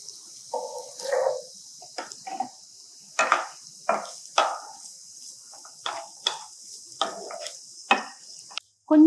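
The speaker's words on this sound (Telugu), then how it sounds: "వేగుతున్నాయి" Thinly sliced onions and green chillies frying in a pan, with a faint steady sizzle under repeated scraping stirs of a utensil against the pan.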